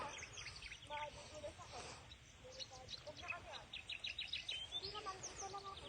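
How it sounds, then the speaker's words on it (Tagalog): Small birds chirp and trill in a morning countryside pasture with cattle nearby, a quiet, scattered chorus of high tweets and short warbles heard from a distance. "Tapos ang maririnig mo lang guys sa umaga is mga huni lang ng ibon."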